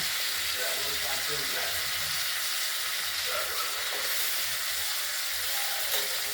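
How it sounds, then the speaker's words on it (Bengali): Giant freshwater prawns frying in a pan give off a steady, close sizzle and hiss that runs evenly throughout, with faint kitchen clatter and no talk. "মাছগুলোকে আমরা ভেজে নিচ্ছি"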